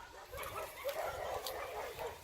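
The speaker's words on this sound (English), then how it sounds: "their neighbor dog's going nuts because they see Mr. Sammy following me around" A neighbor's dog barks and yips excitedly in a quick, uneven run of short calls from nearby, fairly faint, with no talking.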